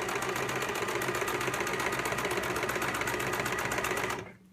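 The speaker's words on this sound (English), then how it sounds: "I'm sewing this about a 1/2 inch from the edge of the fabric" A sewing machine runs steadily, stitching a seam about half an inch from the fabric edge, with a constant close mechanical whir and no pauses until it stops abruptly at the very end.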